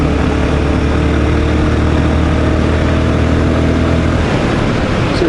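Royal Enfield Guerrilla 450 motorcycle engine and exhaust droning steadily at a loud, close, even level with a low rumbling tone, shifting pitch slightly near the end as the revs change.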